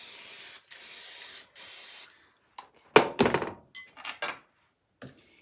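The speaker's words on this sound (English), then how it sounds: "okay, spray some more." Cooking spray hisses onto a baking pan in three steady bursts, followed by a series of hollow thunks and knocks from the pan being handled and set down.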